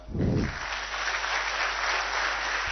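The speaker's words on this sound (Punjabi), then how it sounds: "ਜ਼ੋਰਦਾਰ ਤਾੜੀਆਂ" Loud, sustained applause from a seated audience at a government appointment ceremony for new PSPCL linemen in Punjab, a thick continuous wash of clapping with a brief low thump at the start.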